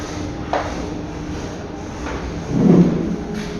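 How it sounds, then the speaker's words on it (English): Doors of a heavy-duty 5000 kg Ecodisc lift slide shut, a light click early on followed by a louder, rumbling thud near the end, close by against a steady mechanical hum. "Doors closing."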